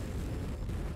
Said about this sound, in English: I've got an ammo explosion.